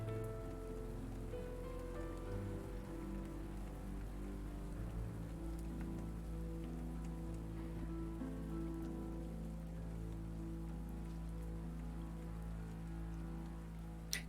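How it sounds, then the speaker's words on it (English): Heavy rain in the video game Rainswept, a dense, steady downpour drumming on surfaces without pause, evenly loud throughout with a faint low hum beneath. "God damn, it's really coming down."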